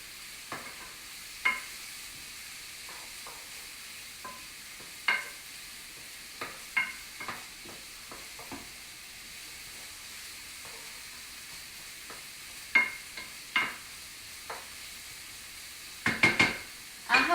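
Minced garlic stirred in a pan for okra and tomatoes, giving a faint low sizzle broken by scattered spoon scrapes and taps on the pan, quiet and sparse, with no voices.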